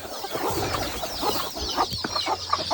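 Chickens cluck in a poultry brooding area where hens are kept with their young chicks, soft overlapping clucks and calls repeating throughout amid a busy barn background.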